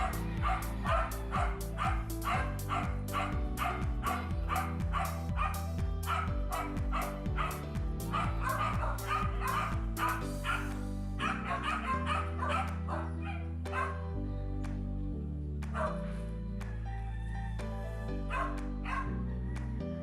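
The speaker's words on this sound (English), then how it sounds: "I was sidetracked by my dogs who found an intruder." Several dogs bark and yip at an intruder in a woodworking shop, loud repeated barks with some whimpering, backed by steady music throughout.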